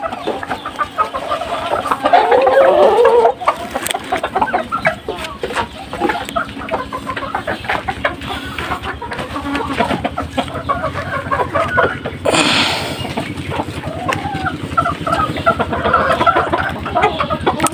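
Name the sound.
chickens clucking on a poultry farm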